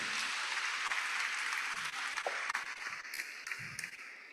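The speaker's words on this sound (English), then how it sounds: "Please a round of applause for the Vice-Chancellor as he comes on." Audience clapping at a university inaugural lecture as the Vice-Chancellor comes on, a dense patter of many hands that thins into scattered claps toward the end.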